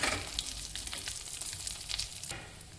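Curry leaves, asafoetida and turmeric sizzle and crackle in hot oil in a pan for lemon rice, a close, steady frying hiss with scattered pops, louder at first and then settling.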